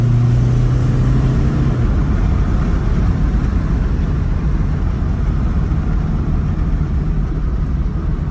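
A diesel Mazda 2 on a test drive holds a steady, loud engine drone with road rumble that continues unbroken throughout.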